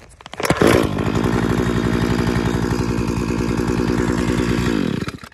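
A Husqvarna chainsaw fueled with Stihl gasoline fires up with a sharp pull and settles into a loud, steady high-revving engine drone, running close by without pause for several seconds before cutting back.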